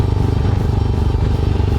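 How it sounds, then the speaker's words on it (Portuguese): A Royal Enfield Himalayan's 411cc single-cylinder engine runs with a steady, low, pulsing thump, loud and close, with rapid even firing beats and a faint mechanical clatter on top. "Ainda mais uma moto 1 cilindro com"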